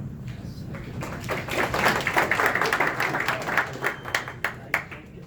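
Applause from an audience welcoming presenters at a deep tech startup pitch event, a dense patter of many hands clapping that swells after the first second and continues steadily with sharper individual claps toward the end.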